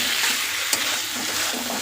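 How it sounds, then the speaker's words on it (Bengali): A potato and pointed gourd curry seasoned with a light meat masala sizzles and is stirred in a pan, with soft, continuous frying and scraping close by. "সবজিটা আমি ভালোভাবে কষিয়ে নেব।"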